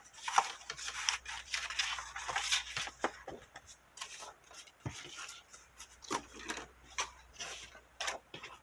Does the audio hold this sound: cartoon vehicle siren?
no